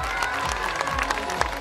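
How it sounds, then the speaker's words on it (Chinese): An audience at a carnival show claps for the Chio-Tian folk acrobatics troupe, a brief, steady burst of crowd applause with low rumbling background noise. "我们给我们的台湾之光九天民俗技藝团掌声鼓励好不好？"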